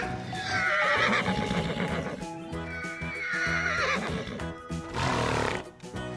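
A horse whinnies loudly several times in long, wavering calls, with hooves clip-clopping underneath.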